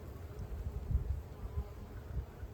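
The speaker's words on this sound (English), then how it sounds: "I like bees that are calm on the comb" Honey bees buzz on a hive frame in a low, steady drone with faint pulses rising and falling. The sound is quiet and close, with no voices over it.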